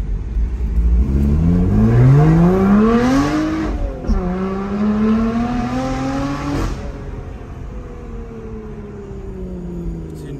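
Lotus sports car engine revving hard close by, rising in pitch through two strong pulls with gear changes, then settling into a lower, fading drone.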